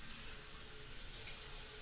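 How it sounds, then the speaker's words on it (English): A kitchen tap running as butter lettuce is washed under it, a steady, fairly quiet rush of water splashing into a sink without any pause. "I'm going to wash the butter lettuce."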